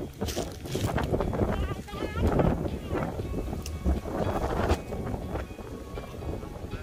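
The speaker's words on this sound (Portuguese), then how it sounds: "aqui, ó o vento" Strong wind blows across a beach campsite, gusting loudly and steadily into the microphone throughout, with people talking under the roar.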